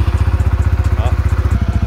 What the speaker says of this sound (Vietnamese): Để nổ máy lên thử.